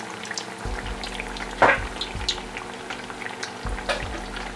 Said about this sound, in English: You fry it here, then we can maybe fry the other side a little more